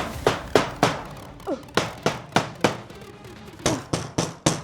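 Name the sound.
hammering nails into a wooden coffin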